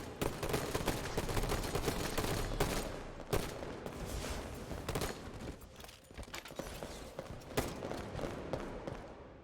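Gunfire in a first-person shooter video game, with dense rapid bursts of shots and sharp cracks fired close and loud, some spaced single impacts toward the end, no talking.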